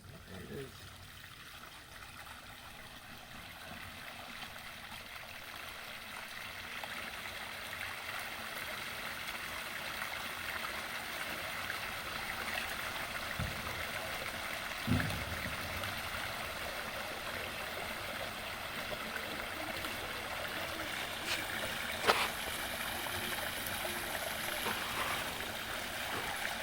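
A small backyard waterfall splashes and trickles at night, a steady close rush of falling water with a couple of brief knocks, and faint voices occasionally under it.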